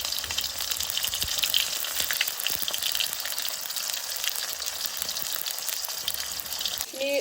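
Whole spices, garam masala, cloves, cinnamon and cardamom, fry in hot oil for a jackfruit curry. A steady, moderate sizzle runs throughout, with a brief utensil clink at the very end.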